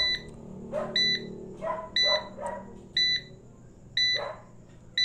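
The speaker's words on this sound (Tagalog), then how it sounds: "Ayan, nag-alarm siya. Malakas mag-alarm mo." An Allan Timer Model 1222 alarm beeps high and electronic in repeated double pulses at a steady rhythm, close and loud, with faint background sounds between beeps.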